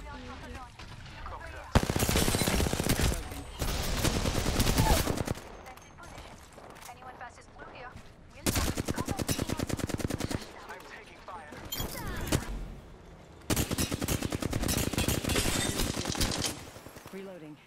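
Video game gunfire rattles out in several sustained automatic bursts separated by short quieter gaps, loud and close, with rapid shots running together into fusillades.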